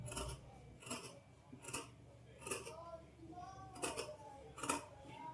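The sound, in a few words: scissors cutting thick blouse fabric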